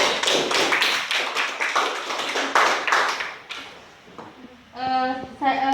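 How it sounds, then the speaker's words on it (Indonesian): Audience applause at a nursing students' seminar on rabies, with dense clapping that holds steady for about three seconds, then tapers off before a voice breaks in. "Berikan aplaus."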